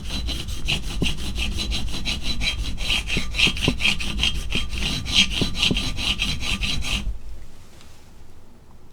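A reed knife is drawn over a sharpening surface set at an angle by a thin number 12 wedge guide. Quick, even rasping strokes repeat steadily and close up for about seven seconds, then stop, leaving near silence.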